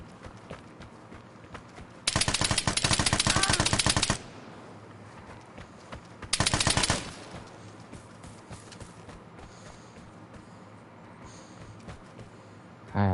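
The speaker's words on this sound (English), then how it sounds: "I'm in the middle of a gunfight, bro" Bursts of rapid automatic gunfire in a video game gunfight, two loud sustained volleys a couple of seconds apart with quieter game sounds between them.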